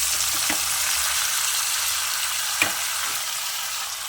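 Chopped and ground cucumber frying with curry leaves and asafoetida for a fresh cucumber pickle, giving a steady loud sizzle and crackle with a few soft stirring clicks.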